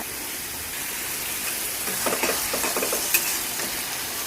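Tomato, ginger and garlic stirring and frying in a pan for chicken curry: a steady sizzle with scraping spoon strokes growing busier in the middle, close and moderately loud, no talk.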